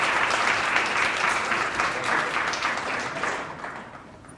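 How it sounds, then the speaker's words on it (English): A warm round of applause for sixth-grade essay winners at an Earth Day essay contest awards ceremony, sustained crowd clapping that is loud at first and gradually fades toward the end. "So let's give a warm round of applause for Emma and all the other sixth graders."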